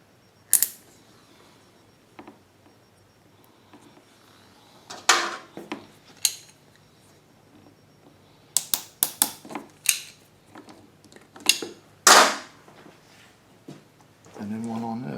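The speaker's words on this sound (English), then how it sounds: "Hose clamp on this fitting." Someone fits a metal hose clamp onto a fuel hose fitting for a Westinghouse WH3700iXLTc generator's extended run fuel kit, making sporadic sharp clicks, snaps and metallic clinks that are close and separated by quiet gaps.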